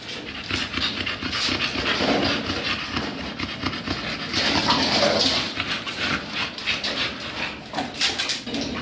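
A dog pants fast and heavily up close, the breathing continuous and rough, with occasional high whimpers mixed in.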